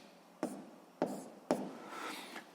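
Hand writing of physics calculations, three distinct pen or pencil strokes scratching across paper, quiet and close, with a longer scribble at the end.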